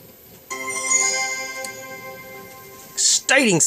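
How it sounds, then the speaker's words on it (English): Linux Mint startup sound: a bright, sustained chime swells from near silence and rings for a couple of seconds, followed by a short burst of louder electronic noise at the end. "Exciting startup sound there."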